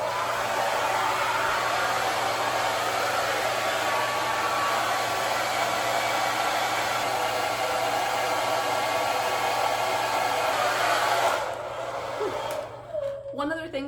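A hair dryer fitted with a diffuser runs on its high setting while drying curly, thin, fine hair, a loud steady whooshing roar that holds for about eleven seconds before cutting off into quieter handling noise.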